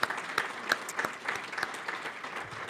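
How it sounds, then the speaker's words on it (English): Audience applause at a weekly club meeting, thanking presenters: a steady patter of many hands clapping, moderately loud and sustained for a few seconds with no voices over it. "Let's have another round of applause for our presenters."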